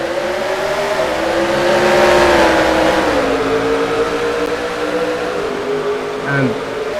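Race cars in a racing video game accelerate together at a green-flag restart of a Bahrain sprint race, a dense engine drone with shifting, rising pitch that swells and then settles over several seconds, with speech faintly under the engines.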